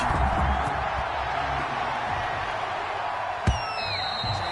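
Stadium crowd at a Cleveland Browns vs Carolina Panthers football game, a steady broad roar of cheering and murmur throughout, with a brief whistle-like tone near the end.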